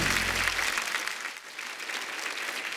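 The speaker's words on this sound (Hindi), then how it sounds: "एक बार लेरी साहब के लिए जोरदार तालियां हो जाए साहब" Loud, dense applause from a studio audience at a TV comedy show, continuous clapping that dips briefly midway and then carries on, close and full.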